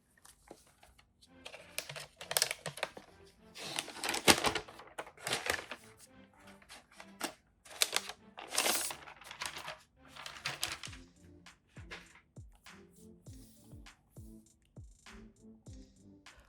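Plastic wrapper being peeled and torn off a new MacBook Neo laptop using its pull tab, a series of crinkling, rustling bursts close to the microphone with short pauses between pulls.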